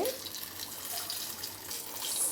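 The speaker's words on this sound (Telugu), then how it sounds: "సలసలలాడే నూనెలో ఎలా ఈత కొడుతున్నాయో చూడండి బజ్జీలు" Mirchi bajji chilli fritters frying in a pan of hot oil, a dense continuous bubbling hiss that fills the background evenly without any talk.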